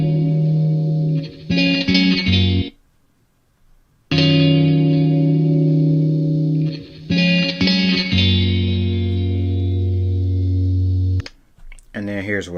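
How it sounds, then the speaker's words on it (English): An unprocessed electric guitar sample for music production plays strummed chords thick with chorus and reverb, in several sustained phrases split by brief silences, loud and close. "I actually found some guitar samples that I wanted to use"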